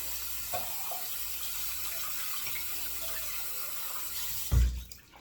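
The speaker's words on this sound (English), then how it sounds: "Okay, we'll rinse out our bowl." Hot tap water runs steadily into an aluminum shaving bowl, a continuous hiss with a brief heavier splash near the end as the bowl is rinsed.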